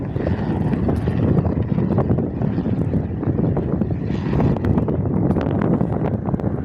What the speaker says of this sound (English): Singapore College Cessna C-172 just about to do a touch and go